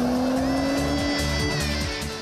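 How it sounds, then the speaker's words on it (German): A sporty Audi convertible from Ingolstadt roars past close by, its loud engine note rising slightly in pitch and then fading a little over a couple of seconds. "Umso spektakulärer ist dafür die Geräuschkulisse, wenn der sportliche Ingolstädter an einem vorbeibraust."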